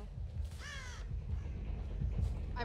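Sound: crow cawing in Dead by Daylight video game

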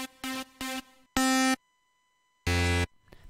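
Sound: super saw synth in FL Studio

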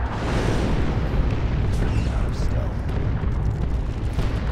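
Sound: artillery strike explosions in Dawn of War 2 video game

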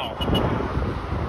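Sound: car horn honking

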